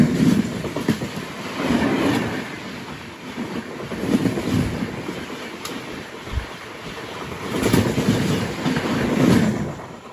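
Train wheels clatter over a railway crossover near Whitefield on an SMVT Bengaluru to Tirupati intercity service, a steady rolling rumble with rhythmic clicks and thumps recurring every couple of seconds throughout.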